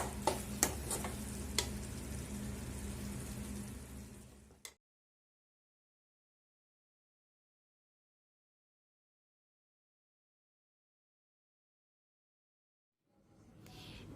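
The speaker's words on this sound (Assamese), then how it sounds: "এতিয়া মই ভালদৰে লৰাই অকণমান সময় ভাজিম" Chilli pickle being stirred and fried in a pan gives a close, steady sizzle with small scraping clicks for about five seconds. Silence follows, and the frying faintly returns at the very end.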